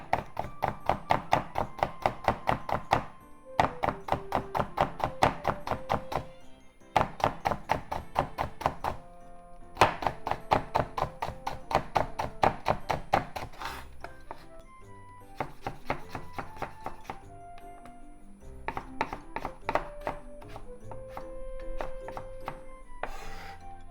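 A knife chops carrots into strips on a cutting board, fast steady bursts of close, crisp thunks in several runs with brief pauses between them.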